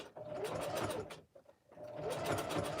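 A sewing machine stitches a folded fabric strip for a jelly roll rug, humming close and steady in two runs with a brief stop in the middle.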